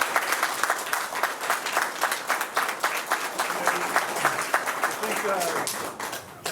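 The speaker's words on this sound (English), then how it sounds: "Can everybody join me in a round of applause for Maria and Jerry, the curators who put on." A crowd at a Ukrainian war photo exhibition opening at a Chicago museum applauds the curators, a dense, continuous clapping with distinct hand claps throughout, and faint voices mixing in near the end as it fades.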